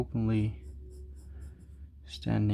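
A pencil sketches a T-rex on paper, a soft, faint scratching heard between spoken phrases at the start and end.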